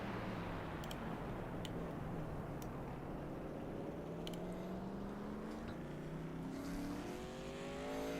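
A race truck's engine drones through a qualifying lap in a Truck Series racing video game, its pitch climbing steadily through the gears in a continuous, close, even roar with no talk.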